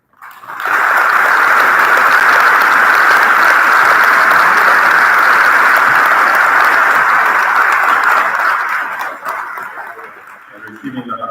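Audience applause at a middle and high school awards ceremony, a dense, sustained wash of clapping from a crowd that holds loud for about nine seconds before thinning out.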